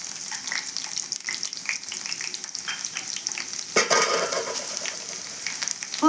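Crushed seasoning ingredients go into hot oil with a few curry leaves for a tamarind-leaf dal tempering, a close crackling sizzle that swells suddenly and loudly midway, with stirring clinks.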